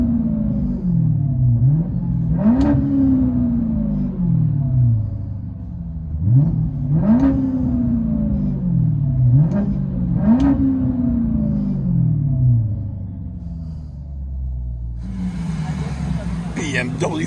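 Heard from inside the cabin, a lowered 2005 BMW 545i with a 4.4L V8 and straight-pipe exhaust revs four times in loud, rising, then falling bursts over a deep idle rumble.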